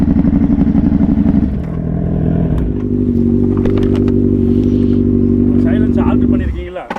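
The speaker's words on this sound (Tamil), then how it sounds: "இது பைக்கோட சைலன்சர் அவ்வளோதான் சார்." A motorcycle silencer exhaust rumbles loudly up close, revving higher then settling into a steady throbbing idle before dropping off at the end.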